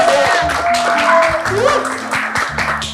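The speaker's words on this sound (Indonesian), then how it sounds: "Tepuk tangan dulu buat tim A." Audience applause for a winning team at an indoor community event, steady broadband clapping throughout with voices and other event sounds mixed in underneath.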